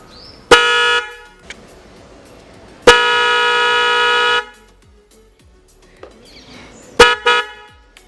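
A car horn wired through a newly installed horn relay harness blasts in three loud, close honks: a short toot, a longer sustained blare of about a second and a half, then a final short burst, with quiet between.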